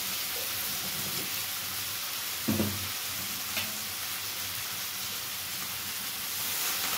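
Ground spices and turmeric sautéing in a pan for a village-style Bengali fish curry, a steady low sizzle with a few stirring scrapes, one louder clatter near the middle, close and continuous without talk.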